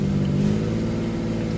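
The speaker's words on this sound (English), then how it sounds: "Alright, so the car started. I gotta get it to warm up." A BMW E36 engine, turbocharged and with a dirty idle control valve, runs steadily just after a cold start, a continuous close, loud mid-range drone with a slight rev near the start and no talk.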